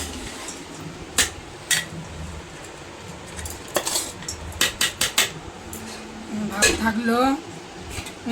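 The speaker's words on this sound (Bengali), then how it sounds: "খাওয়া দাওয়া করে নিয়ে বাসন বাসন মাজবো" Dishes and utensils being washed, metal pots and cutlery clinking and clattering in scattered bursts, close by, with people talking in the background.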